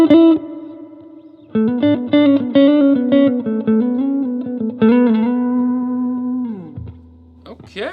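PRS SE NF 53 electric guitar played clean through a Fender Princeton 68 Custom amp with reverb, ringing strummed chords and single notes that rise and fall, loud and close, ending in a low sustained note.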